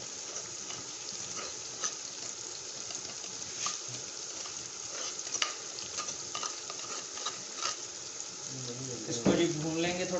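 Ginger and garlic paste frying in oil with chopped green chillies, a steady broad sizzle with stirring scrapes throughout, louder clattering near the end, while a voice talks.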